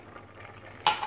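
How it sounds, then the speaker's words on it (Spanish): A spoon stirs rice into a pot of broth with pork ribs, a soft scraping clatter building to a sharper scrape and splash near the end, close and fairly quiet. "Y lo removemos bien para que se vaya todo por debajo y no se quede encima de las costillas."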